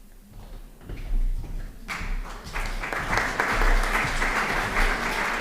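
Applause from an audience at a university orientation week opening ceremony, starting thinly and swelling into fuller, sustained clapping that continues to the end.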